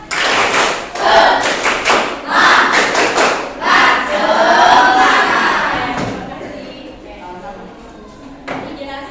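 Students in a university teaching-practice class perform a rhythmic 'tepuk semangat' clapping chant: sharp, patterned bursts of claps up front, then loud group voices chanting and cheering over the rhythm.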